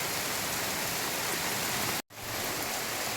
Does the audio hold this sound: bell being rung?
no